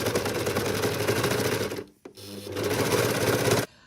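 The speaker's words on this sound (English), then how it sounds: "Anything that frays, the overlocker comes out." Overlocker sewing machine running on curtain fabric, a loud steady rapid mechanical whirr that stops briefly near the middle, restarts and then cuts off abruptly.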